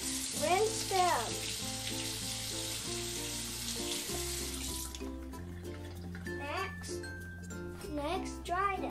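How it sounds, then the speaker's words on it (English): Crayola Globbles get rinsed under a running tap, with steady close water rushing and splashing while a voice and other voices talk over it. "First, rinse them."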